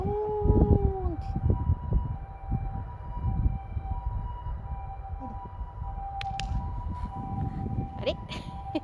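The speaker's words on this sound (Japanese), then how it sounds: "あ、救急車が気になるよね。" An ambulance siren wails nearby with a rising and falling tone at the start, then continues as a fainter steady wail further off under rustling and handling noises.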